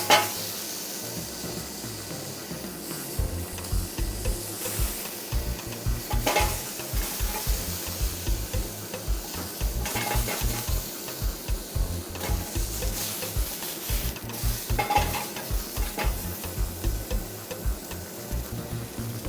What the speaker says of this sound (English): What do you call this now? Frying or grilling? Grilling.